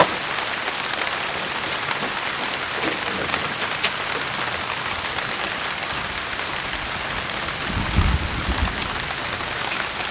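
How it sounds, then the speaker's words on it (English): Steady rain falls on a porch and garden, a dense even patter with scattered drips, and a low thump near the end. "We've been interrupted by the rain."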